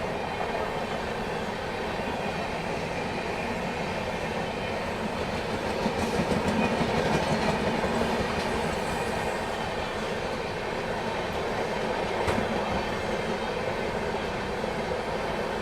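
The Bihar Sampark Kranti express train running on rails in fog, a steady loud rumble with rhythmic wheel clatter and occasional squeal throughout, with a voice faintly underneath.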